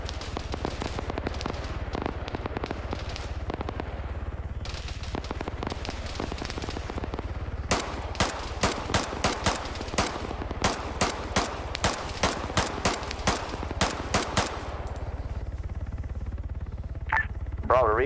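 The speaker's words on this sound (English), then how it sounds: "You already hear the gunshots going" Gunfire in a multiplayer military video game, with a rapid run of sharp shots and bursts over a constant rumbling background, some cracks distinct and others distant.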